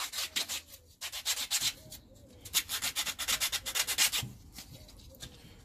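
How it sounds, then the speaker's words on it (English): Wooden edges of a simple key rack are sanded smooth by hand, a close, steady run of rhythmic rasping rubs that speeds up into quick back-and-forth strokes, with a brief word spoken. "we can just sand them down a bit as well, just so they're not sharp"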